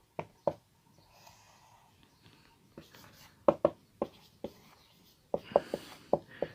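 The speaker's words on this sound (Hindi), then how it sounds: "अब पहले हम इसका कायदा लिखते हैं" Pen writing by hand on paper, heard as sharp scratchy strokes in irregular bursts with quiet pauses between them, fairly close and alone without talk.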